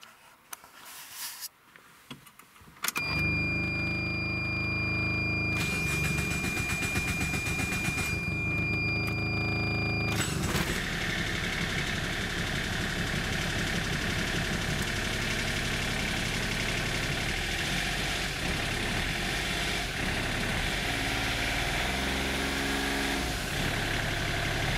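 A Kubota diesel engine swapped into a Geo Metro with a turbo fitted, cranking briefly after some handling noise, then catching and settling into a loud, steady, rough diesel idle that runs on without speech.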